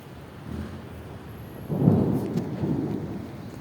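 Distant thunder rumbles low and rolling, with steady rain hiss underneath.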